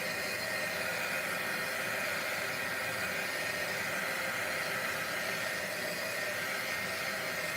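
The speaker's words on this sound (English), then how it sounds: "I'm going to go ahead and dry this before we use our watercolor pencils with my handy dandy dryer." A craft heat dryer drying watercolor paint blows with a steady, even whoosh of air, close and continuous throughout, with no talking.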